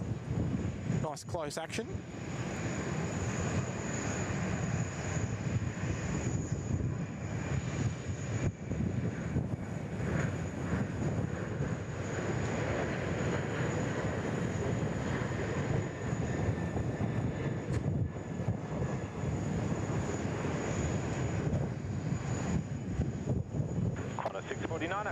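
A Vietnam Airlines airliner rolls in at Sydney Airport, its steady engine roar held close and fairly loud throughout, mixed with wind buffeting the microphone while someone talks over it.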